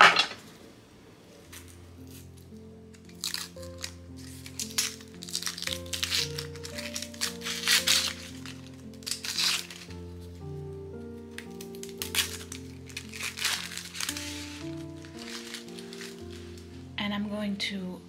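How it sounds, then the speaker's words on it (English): Onion skin being peeled by hand in a kitchen while making butternut squash soup gives dry crinkling and crackling bursts, heard under steady background music. "This one I will remove the skin."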